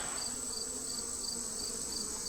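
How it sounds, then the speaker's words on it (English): Honey bees buzz softly and steadily inside a hive, a faint, even hum with a few higher whines from individual bees and no talking. "Lots of bees, lots of young bees."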